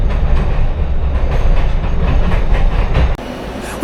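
A Glasgow Subway train rumbles loudly through the tunnel with a dense, continuous roar and rhythmic rattling. The noise drops abruptly near the end as it pulls into St Enoch station.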